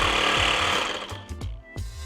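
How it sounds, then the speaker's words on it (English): Jigsaw cutting a metal section during a van conversion, a loud continuous buzzing rasp that chatters rhythmically, then breaks into a few short stuttering bursts near the end. "So I'm going to try and cut it down with a jigsaw, the metal bit."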